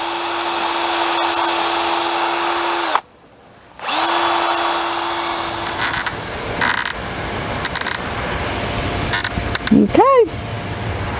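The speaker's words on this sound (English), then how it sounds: "I will drill my second hole" A power drill bores a second hole for a homemade measuring cups and spoons rack, whining loudly and steadily, pausing briefly, then resuming before winding down into quieter handling noises.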